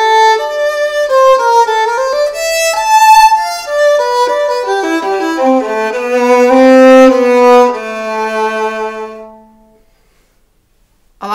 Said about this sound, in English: there's another type of mute called the leather mute